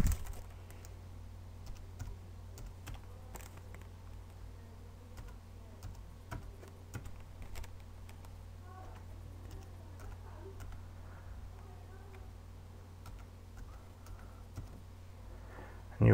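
Product key being entered on a computer keyboard while setting up a NETGEAR Stora network storage unit: faint, scattered key clicks over a steady low hum, no talking.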